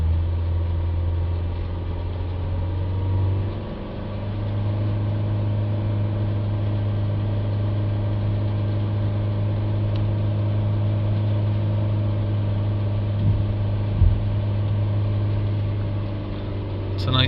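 Diesel engine of a Renault Trafic van running close by, its low drone rising in pitch as the revs climb partway through, then holding at a steady higher hum with a brief knock near the end.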